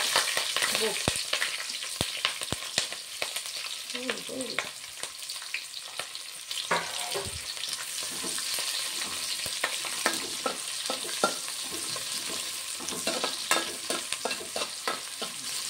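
Sliced onions and green chillies frying in a pan for bagara rice, a continuous hissing sizzle broken by sharp spatula clicks and scrapes, close up, with no talking.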